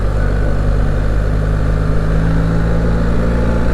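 BMW R1300 GS motorcycle ridden in manual mode, its engine giving a loud, steady low drone mixed with wind rush throughout.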